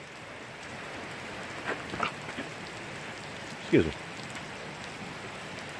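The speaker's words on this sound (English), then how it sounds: "we just got rained out here, everybody" Steady rain hisses down outdoors as a sudden downpour hits a jungle homestead, with brief spoken words and a couple of louder knocks over the constant wash.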